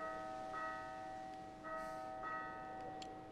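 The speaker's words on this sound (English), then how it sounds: "The bell is ringing." In the video game Lost Sphear, a town bell tolls as an alarm. It strikes about three times at an uneven pace, faint and distant over a low background hum.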